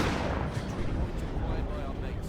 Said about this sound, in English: Heavy turret doing some work.